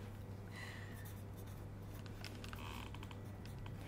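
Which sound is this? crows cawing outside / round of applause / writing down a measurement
writing down a measurement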